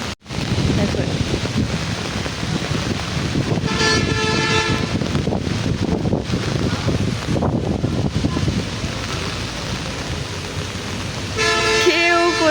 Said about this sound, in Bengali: রাস্তাঘাট গাড়িতে একদম ভর্তি হর্ন শুনেই বুঝতে পারছো